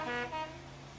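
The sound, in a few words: school bus honking its horn loudly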